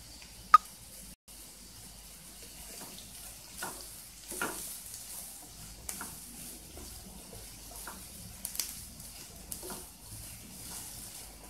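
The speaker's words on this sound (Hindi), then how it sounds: "अनियन को पिंक कलर होने तक फ्राई करनी है।" Onions frying in a pan until just pink give a soft, steady sizzle, broken by occasional scrapes and taps of stirring and one sharp knock near the start; no voices.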